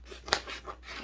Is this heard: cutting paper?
yes